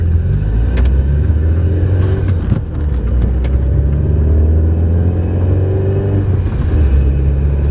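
An Alpine car's engine pulls away in first gear with a loud, close, rumbling drone, rising gradually in pitch as it accelerates, with no voices over it.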